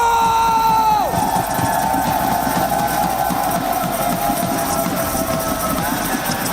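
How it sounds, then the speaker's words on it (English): A live crowd at a PUBG Mobile World Cup esports watch party cheers and shouts in a dense, sustained roar, while a host speaks into a microphone over it. "we do have quite a bit of crowd presence"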